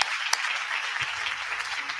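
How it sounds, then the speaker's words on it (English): Audience applause for comedian Lester Berry on a comedy show, a moderate wash of clapping that holds steady for a couple of seconds, fairly even and without talk over it. "Give him a round of applause"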